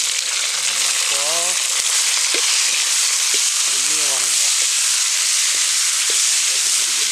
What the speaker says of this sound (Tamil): பொன்னிறமாக வறுத்துக் கொள்வோம்.